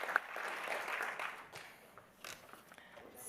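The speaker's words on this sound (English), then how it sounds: "Please join me, now that everybody's clapped 20 times, congratulating and thanking these leaders" Audience applause for conservation leaders at a summit, a steady broadband patter of many hands clapping that swells early and then thins out toward the end.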